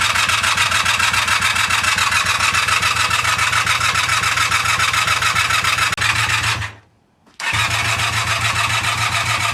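A car engine cranks and turns over, a loud, steady mechanical drone running close up before cutting out briefly and picking back up, with no voices.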